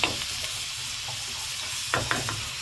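Chicken breast pieces fry in a pan with onion, a steady sizzle running throughout with a few sharp scrapes of stirring near the end; close and moderately loud, no talking.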